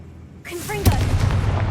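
A Confringo spell in Hogwarts Legacy fires with a rising whoosh and then bursts into one loud sharp blast, followed by a rumbling crackle that lingers.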